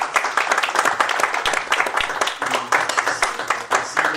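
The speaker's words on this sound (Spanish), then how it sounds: "Les voy a suplicar que ofrezcamos un aplauso final." An audience gives a final round of applause at a conference session of the Rodolfo Stavenhagen seminar, with close, dense clapping that pulses irregularly and stays loud throughout.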